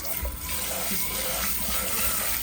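Tap water runs steadily over freshly cooked pasta in a sink, rinsing off starch with a continuous close splashing hiss and no pauses.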